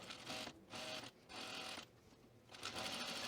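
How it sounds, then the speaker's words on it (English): Short runs of a sewing machine stitching an eighth of an inch from a seam on a garment top, three or four fast whirring bursts separated by brief pauses, close and moderately quiet. "we're gonna stitch about 1/8 of an inch away from the seam here"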